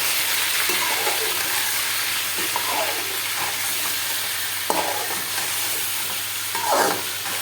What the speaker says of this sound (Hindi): इसी कढ़ाई में मैंने चिकन जो है वो डाल दी है